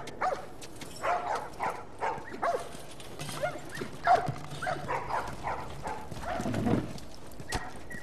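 A puppy in the video game The Last of Us barks and yips in a string of short, repeated bursts, close and moderately loud, over a soft background of game ambience.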